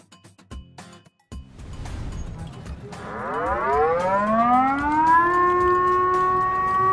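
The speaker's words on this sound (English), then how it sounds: "What you hear is indeed the air raid siren." Amsterdam's air raid siren sounds during its monthly test, a few clattering knocks first, then a wailing tone that swells upward in pitch and settles into a loud, sustained howl carrying across the city.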